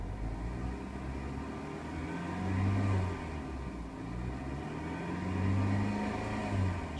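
A 2003 Dodge Stratus 2.4 engine with 135,944 miles runs at a steady low rumble, rising twice into smooth revs, at a wrecking yard engine test.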